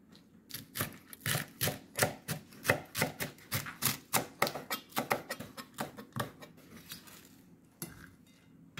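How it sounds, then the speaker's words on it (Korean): Knife slicing green onion on a cutting board for sweet potato stem kimchi, a fast series of crisp, close chopping knocks that slow and thin out toward the end. "저는 파를 이렇게 써는데 여러분께서는 취향껏 써시면 됩니다."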